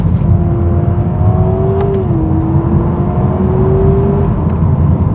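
A 2026 Honda Prelude plays a simulated combustion engine note through its cabin as the driver shifts down through the gears, a steady humming drone whose pitch dips and climbs again, set over loud continuous road and interior rumble.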